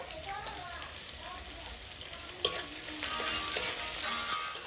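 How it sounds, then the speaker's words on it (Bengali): Grated garlic fries in a pan, a steady close sizzle with a few sharp utensil clinks and scrapes, while a voice speaks faintly over it. "রসুনও কষা শুরু করে দিয়েছি"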